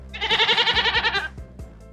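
A billy goat bleats once in a long, wavering, nasal call, close and clear, followed by a few soft thumps.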